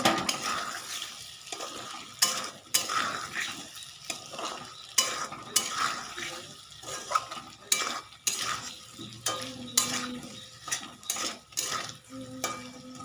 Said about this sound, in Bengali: আলুগুলো একটু বাকি মশলার সঙ্গে কষিয়ে নেব